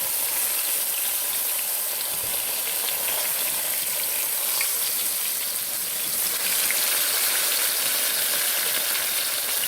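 Catfish fillets frying in olive oil in a hot pan, a loud, dense, unbroken sizzle that holds steady for the whole stretch, close up and without voices.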